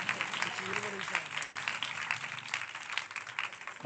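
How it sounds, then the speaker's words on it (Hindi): A church congregation breaks into loud, sustained applause, a dense wash of clapping lasting throughout, with voices briefly audible beneath it early on. "जोरदार ताली बजाएंगे।"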